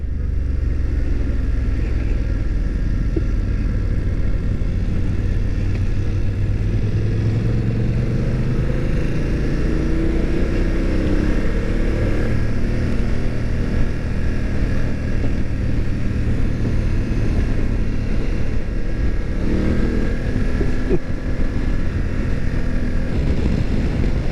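A 2019 BMW F850GS motorcycle ridden on a demo ride, its engine droning steadily and loudly with rising and falling pitch sweeps and heavy wind rumble throughout, no talking.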